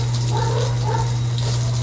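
A household motor pump pushes out only a weak stream of water, a constant low motor hum beneath a steady, close, gushing splash.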